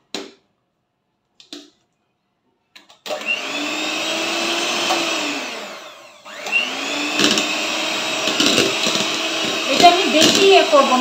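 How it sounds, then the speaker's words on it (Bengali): An electric beater whips egg whites and yolks together at low speed for a chocolate sponge cake batter, a steady motor whir that starts after brief clicks, dips once, then resumes with light rattling. "বিটারে লো স্পিডে দিয়ে আমি এটা বিট করে নিচ্ছি"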